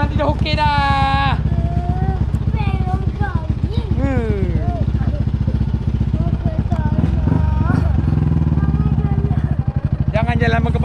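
Motorcycle ride with a steady low engine drone running throughout, while voices talk and exclaim loudly over it almost continuously.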